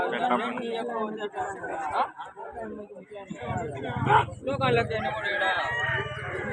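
Fighting roosters crow at a busy rooster market in Punganur, their calls rising over constant close crowd chatter and bargaining voices.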